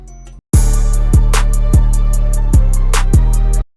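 A deep 808 bass holds long legato notes that slide smoothly into one another beneath a steady hi-hat and snare trap beat, loud and continuous.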